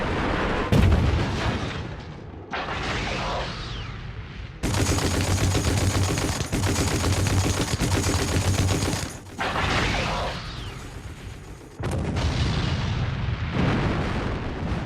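Russian rocket launchers and artillery fire in WWII archival footage, with repeated heavy booms and dense bursts of firing that come in loud, continuous stretches with short breaks between them.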